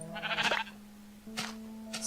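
Sheep bleating in the Minecraft video game, two or three short nasal bleats heard clearly and close, separated by brief gaps.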